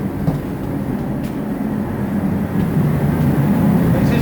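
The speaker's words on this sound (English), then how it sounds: "Whereas the diesel heaters, which are noisy," A loud, steady roaring rumble of a diesel space heater running nearby during a blizzard, continuous and growing slightly louder toward the end, with no talking.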